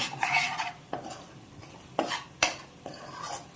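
Chilli powder frying in a pan for cauliflower curry while a spoon scrapes and stirs it, producing several clattering strokes over a soft sizzle, up close with no voices.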